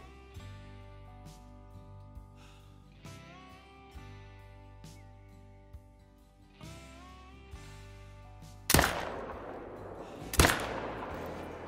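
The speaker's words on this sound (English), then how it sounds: "First shot might not have been good enough, but the follow-up shot definitely was." Two sharp, loud rifle shots in theHunter: Call of the Wild, a first crack followed about two seconds later by a follow-up shot, both standing out over a quiet outdoor ambience with bird calls in Australia.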